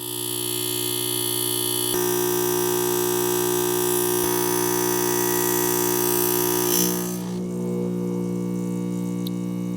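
The fuel priming pump of a Sunfire SF160 infrared garage heater drones with a loud, steady electric buzz, then drops to a quieter hum near the end as the fuel line fills.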